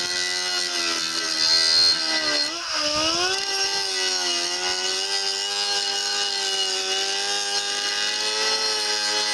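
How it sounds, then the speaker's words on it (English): A die grinder grinds down a weld on a 1956 Wheel Horse RJ35 tractor part, giving a loud, steady high-pitched whine with a brief dip and recovery in speed. "I took the die grinder, ground the weld down almost all the way through, both sides"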